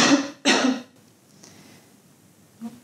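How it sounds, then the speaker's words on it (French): Two sharp coughs in quick succession, close and loud, then quiet breathing and a softer third cough near the end, during a pelvic floor exercise. "On va essayer de tousser en contractant le périnée."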